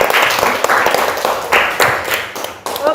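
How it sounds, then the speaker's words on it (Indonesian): Applause in a classroom, where students clap in short uneven bursts close by, with some voices alongside. "Ya, bagus, tepuk tangan."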